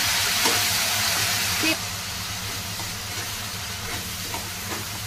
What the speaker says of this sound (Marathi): कच्च्या कांद्याची प्युरी केलेली आहे, त्याच्यामुळे तेलात छान असा कांदा भाजून घ्यायचा.